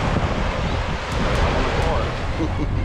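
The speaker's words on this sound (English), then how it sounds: "The wind has been a bit relentless today." Strong, relentless wind at a beach in the Boyne Tannum area, a steady loud rush with low rumbling buffeting and faint surf beneath, no voices.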